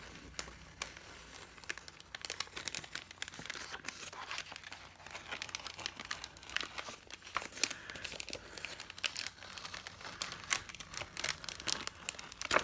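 Printed paper peeled slowly off a backing card, heard as close, faint, continuous crinkling and tearing with small bursts of crackle, no voices.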